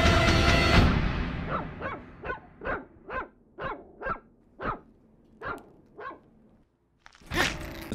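Puppies barking in a comedy clip: about a dozen sharp, evenly spaced yaps, loud and close, after a burst of noise, with a brief rustle at the end.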